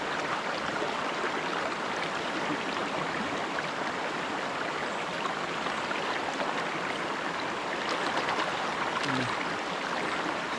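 A steady rush of flowing river water, continuous and moderately loud, with an even broadband texture and no clear pauses or voices.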